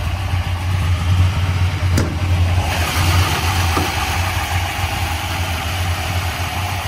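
A 1963 Plymouth Sport Fury's high-compression 426 Max Wedge V8 runs at a steady, throbbing idle with a deep lumpy rumble, close by, with one brief sharp rise in the sound.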